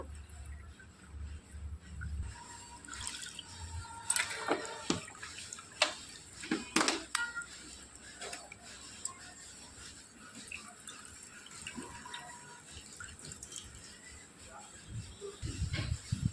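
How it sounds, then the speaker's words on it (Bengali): Flattened rice (chira) being washed by hand in a bowl of water, with soft splashing and sloshing at close range, gentle swishes and a few sharper splashes in the middle and near the end, with faint background noise. "জল পাল্টে পাল্টে আমি চিড়েটাকে খুব ভালো করে ধুয়ে নেব"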